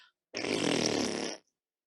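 A single long, buzzing, rasping blast about one second long, loud and close, imitating a donkey breaking wind partway through a told folk tale; it sounds alone with no talk over it.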